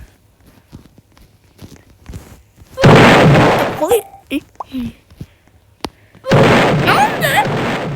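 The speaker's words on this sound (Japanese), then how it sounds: "大砲ついてる。" Cannon fire from a pirate ship in Roblox comes as two loud, sustained blasts with rumbling tails, separated by quiet gaps, clicks and bits of speech.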